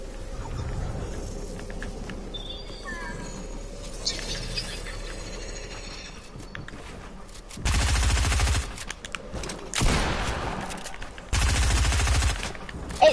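Video game gunfire from an SMG and a shotgun arrives in three loud bursts of rapid shots, following a stretch of quieter game noise, with players talking briefly.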